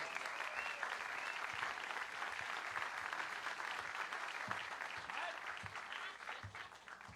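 Audience applause at a live country music show, a dense, sustained wash of clapping from a large crowd, steady throughout and fairly distant.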